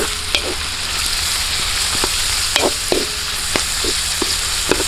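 Thin-sliced chicken breast sizzling in a pan over an outdoor cooking fire, a steady loud frying hiss broken by occasional clinks and scrapes of stirring.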